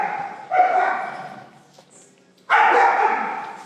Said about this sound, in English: Unhappy dog.